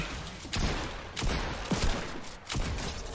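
A run of loud, sharp pump-shotgun blasts from a video game, several spaced irregularly over a constant noisy background, with no voices.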